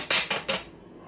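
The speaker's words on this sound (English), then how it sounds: "take a couple of eggs" Three quick, bright clinks of eggs knocking against a bowl while preparing homemade meatloaf, evenly spaced and close, then fading to quiet.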